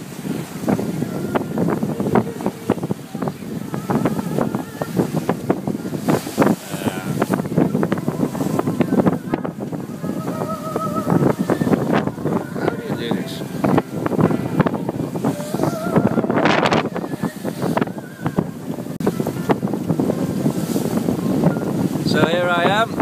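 Steady wind noise and water rush on a moving sailboat between Lanzarote and Madeira, a constant broadband roar with creaks and splashes throughout.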